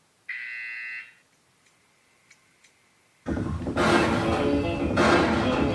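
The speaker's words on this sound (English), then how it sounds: "You will hear a buzzer." A buzzer sounds once in Ty the Tasmanian Tiger, a short steady electronic tone lasting under a second, followed by quiet and then a loud, noisy rush of game sound.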